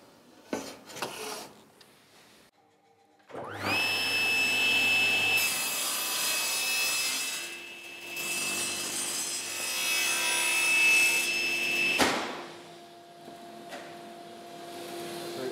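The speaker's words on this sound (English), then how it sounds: "The other thing we have to do is just cut the corners off so they're not 90 degrees." A power saw bites into a wooden bed frame to cut off a corner at an angle, a sustained loud whining cut of several seconds with the blade tone dropping as it finishes, preceded by brief knocks and followed by the motor spinning down.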